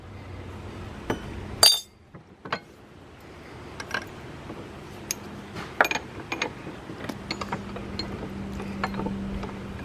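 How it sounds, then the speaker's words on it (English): A hammer taps a bronze diffuser plate at its rivet hole, set on a ratchet extension, in a Leslie speaker back cap: scattered sharp metallic clinks, one louder strike near the start, then lighter taps over a faint hum. "So I'm going to tap it back down to where it has to go."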